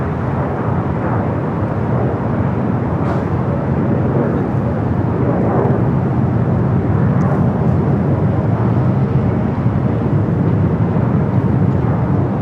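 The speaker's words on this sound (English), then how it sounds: "That looks like Speedbird number 2 for takeoff there on the south side." A British Airways airliner taking off from the south side at Los Angeles International Airport, a loud, continuous broadband jet roar that holds steady throughout without any talk.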